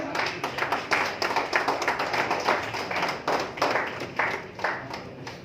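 Audience applause at a community service awards evening in an auditorium, a steady wash of many hands clapping with individual claps audible throughout, moderately loud and sustained.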